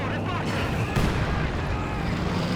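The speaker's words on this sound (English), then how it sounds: "big heavy mortar hit" A heavy mortar round lands in Company of Heroes 2 amid ongoing battle rumble, a deep thudding impact standing out briefly from continuous booming gunfire and noise.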